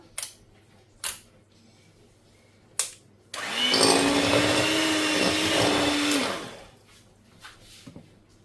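Electric hand mixer creaming butter with 150 grams of brown sugar for a rich cake batter, a steady whirring hum about three seconds long that starts abruptly and then stops, with a few clicks and knocks before and after.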